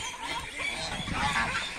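An old tame goose named Zé honking while bathing, a rough, continuous nasal call heard close and alone.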